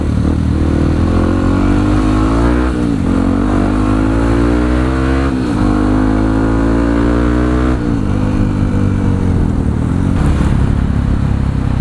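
A motorcycle engine runs loud and close throughout, holding a steady rumbling idle broken by several throttle revs that rise and fall in pitch, with no talking over it.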